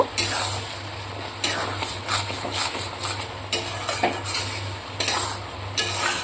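Mung dal and bottle gourd curry stirred with ghee in a pan, with rhythmic bursts of spoon scraping and clattering against the metal over a faint sizzle, no clear talk.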